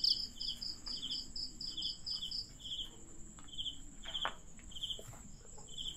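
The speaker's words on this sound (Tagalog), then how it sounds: "Maririnig nyo, guys, mga kuliglig" Crickets chirp at night in a faint outdoor setting, with rapid repeated pulses in a steady rhythm over soft background hiss and some scattered rustling.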